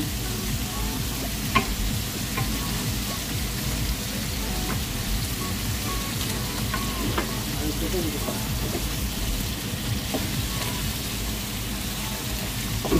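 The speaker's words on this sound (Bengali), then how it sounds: "পেঁয়াজ দিয়া ভাজা হচ্ছে।" Tomatoes, spices and onions fry in mustard oil in a pan, a continuous dense sizzle with occasional stirring clicks and a voice talking faintly underneath.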